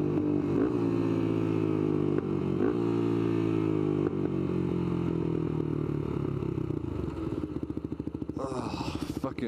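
Motorcycle riding along, a loud steady engine drone heard up close with a slight pitch rise and fall, ending in a brief scraping clatter.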